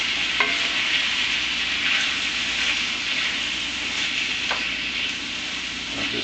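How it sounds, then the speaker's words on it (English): Ground beef with chili spices browning in a pan for Texas chili, a steady close sizzle with occasional scraping stirs, no talking. "I'll just brown for a minute or two while I'm doing the rest of it."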